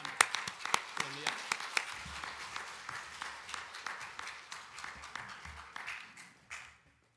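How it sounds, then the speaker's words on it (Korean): A church congregation at a dawn prayer service claps to welcome a pastor to the pulpit: scattered, sharp individual claps that thin out and fade toward the end. "감사와 환영의 박수로 모시도록 하겠습니다"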